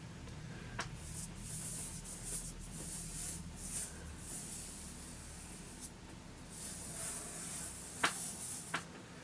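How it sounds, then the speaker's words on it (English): A brush or cloth rubs oil painting medium across a board primed with household acrylic primer, giving a soft, quiet, continuous scrubbing hiss with a few light taps near the end. "I'm going to oil out the surface, rubbing medium all over while painting it"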